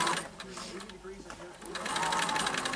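A sewing machine stitching quilt block pieces runs at a steady, even hum for a few seconds, close and fairly quiet, while someone talks over it.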